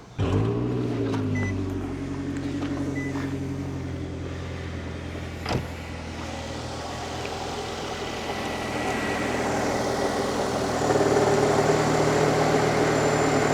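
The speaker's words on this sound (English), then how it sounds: "And it says start engine. So I'm going to start the engine." A car engine cranks briefly and catches, then settles into a steady low idle that hums on for several seconds, close by.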